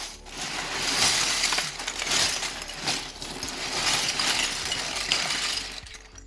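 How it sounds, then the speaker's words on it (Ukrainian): A bag of plastic Warhammer miniature bases is tipped out onto a table. The small pieces clatter and rattle in a steady, dense stream close to the mic for several seconds, with no talking. "Я зараз візьму, просто це все вивалю на стіл і скажу вам кількість."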